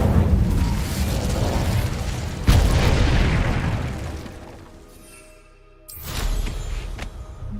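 An Incendio fire spell in Hogwarts Legacy lets off loud, rumbling blasts, with a sharp burst partway through that fades off, then another burst near the end. No voices.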